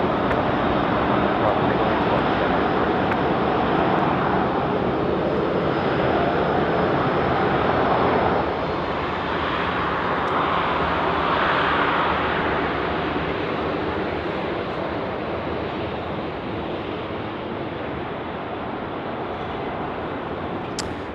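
A Boeing 737-800 airliner on final approach to Sydney Airport at night, a broad steady engine roar that slowly eases, heard from a distance with a voice talking over it.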